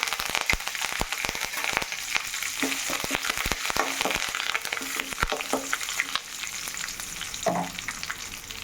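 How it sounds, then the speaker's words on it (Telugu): Dried red chillies and curry leaves crackle and sizzle in hot oil for a tempering for peanut tomato chutney, a steady close frying hiss broken by sharp pops and spatters, with a stirring scrape near the end. "ఇప్పుడు ఎండుమిర్చి వేసుకుంటున్నా అండి కొంచెం కరివేపాకు అండి"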